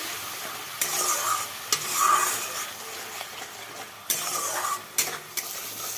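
A spice paste loosened with a splash of water sizzles in a pan while being stirred, several bursts of scraping and hissing rising and falling, close and moderate in level.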